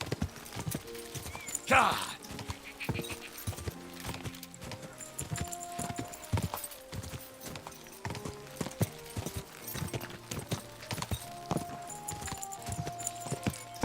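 A horse's hooves clip-clop in a steady walking rhythm in Kingdom Come: Deliverance II, with a brief whinny early on, music in the background and a short spoken exclamation.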